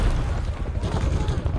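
A grenade goes off in Call of Duty: Modern Warfare 3, giving deep, booming low rumbles that roll and pulse through the short moment. The blast sounds fairly close and heavy.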